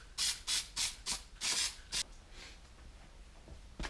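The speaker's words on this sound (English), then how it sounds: "Just put a piece of material there and go ahead and spray." Short hissing bursts of spray adhesive hit a piece of upholstery material in a quick run of about seven pulses, then trail off into near quiet with one last puff at the end; close and fairly soft.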